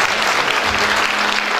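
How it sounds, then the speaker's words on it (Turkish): Steady, loud audience applause at a candidate introduction evening, an unbroken wash of clapping from a large hall crowd. "Bir alkış da ona alabilirsek buradaysa"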